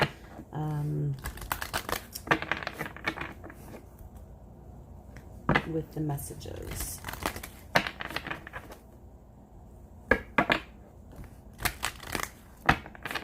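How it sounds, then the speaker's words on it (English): Tarot cards are shuffled in crisp, riffling bursts with pauses between, close by, while a person speaks softly at times. "I'm going to shuffle the cards a little bit"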